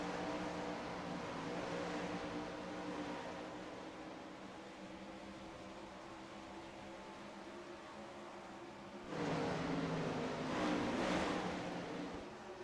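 Dirt track 410 outlaw race cars roar around the Knoxville oval in a heat race, a steady distant engine drone that swells louder as the pack passes near the end.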